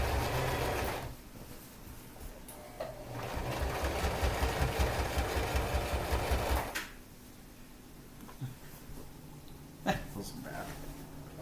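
A sewing machine top stitching along a bag handle runs in a steady close rattling burst for a few seconds, then stops, with a person talking around it.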